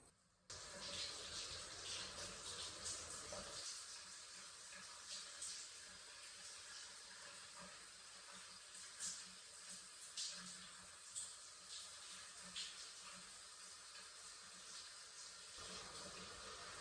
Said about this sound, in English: I'm gonna have a shower in this gorgeous shower here